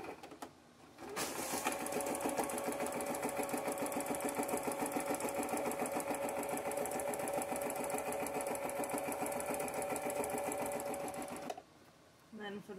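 A sewing machine runs in one long continuous burst, stitching a corset boning channel in a Victorian corset mockup, its rapid even needle clatter close and steady from start to near the end, with brief quiet handling on either side.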